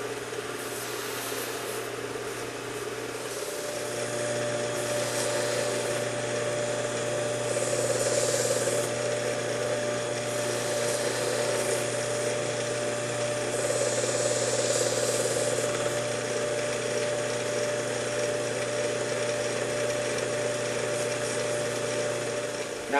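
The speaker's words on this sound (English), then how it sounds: "then I can go side to side using the fine honing grit belt" WS2000 sharpener with a fine 3600-grit honing belt running as a knife blade is drawn side to side across it, a steady motor whine and belt hiss with gentle rises as the edge meets the belt, continuous and close.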